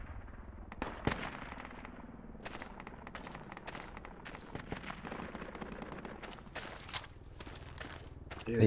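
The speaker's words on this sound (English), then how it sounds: "I hear the grenadier." A grenadier enemy in a spec ops video game fires from a distance, giving faint, scattered gunshots and muffled blasts that recur irregularly beneath a low background rumble.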